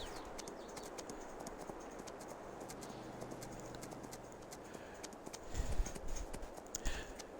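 Horse hooves clip-clop steadily at a walking pace while riding in Farming Simulator 22, faint and even beneath a low background hiss, growing a little heavier toward the end.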